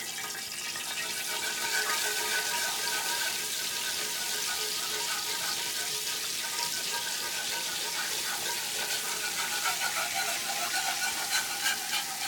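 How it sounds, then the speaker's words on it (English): Flour being whisked into hot oil for a gumbo roux makes a steady, close sizzle with a continuous brushing, whisking texture that stays even throughout. "I'm going to start whisking in my flour to make my roux."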